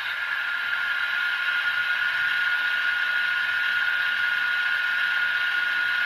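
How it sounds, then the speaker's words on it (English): Manual radiator fan sound effect from a Tier 4 GEVO model locomotive: a steady, loud hissing whir with a bright whine, constant and unbroken, with no talk. "F11, which is manual radiator fan sound."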